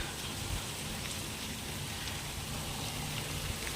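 Steady rain patters densely on the ground outside, an even, continuous hiss with no breaks and no voices.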